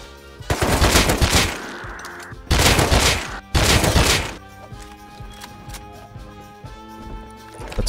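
A turret firing in the survival game Rust, three long loud bursts of rapid automatic fire separated by short gaps, then quieter background game sounds.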